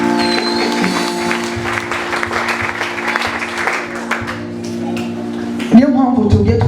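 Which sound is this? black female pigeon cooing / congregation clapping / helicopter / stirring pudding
congregation clapping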